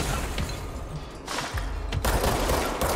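Continuous heavy automatic gunfire roars throughout in the action game Control, dense rattling bursts with a brief lull before the shooting intensifies again.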